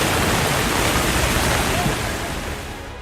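Floodwater surging after heavy rain in Nepal, a dense continuous roar of rushing water, loud and broadband, easing slightly toward the end.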